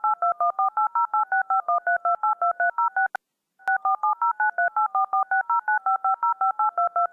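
Telephone DTMF dialing tones beep in a quick, even string of short paired-pitch bursts, broken by one brief gap with two clicks before the rapid sequence resumes, clear and alone.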